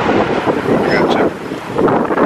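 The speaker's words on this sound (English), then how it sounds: "not only is it's cold and windy" Strong wind buffets the microphone in continuous roaring gusts, loud and close, with no voices.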